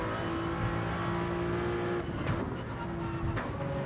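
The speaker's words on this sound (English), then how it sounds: "I like the loud car sounds." Race car engine noise from the Gran Turismo driving game, a loud sustained roar with steady engine tones, a brief shift or dip around the middle and continuous revving without speech.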